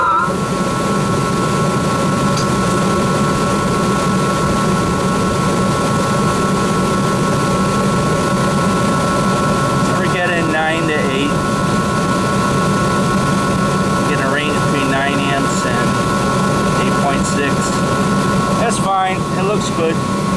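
A Rheem 8 ton commercial AC unit running after power-up, a steady loud motor and fan drone with tonal hum, continuous throughout as someone speaks now and then over it.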